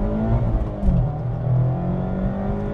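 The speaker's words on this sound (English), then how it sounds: "I'd like to hear more of this engine" Mazda MX-5 Miata engine with 181 horsepower accelerating, a loud close-up drone with rising tonal harmonics as revs climb, steady and unbroken over a few seconds.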